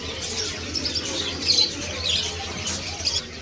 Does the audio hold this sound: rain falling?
no